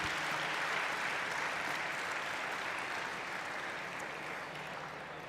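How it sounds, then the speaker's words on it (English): A large audience at a national awards ceremony applauds in steady, dense, sustained clapping that fills the space and fades slightly toward the end, with no voices over it. "Let us give a thunderous round of applause to the great institution."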